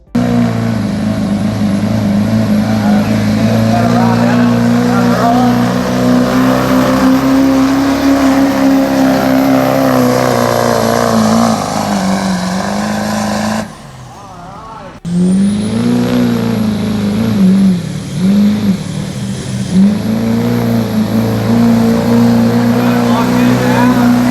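A loud 2001-02 Duramax diesel truck engine roars and revs under strain during a sled pull for a long stretch, briefly dropping off before surging back at full power.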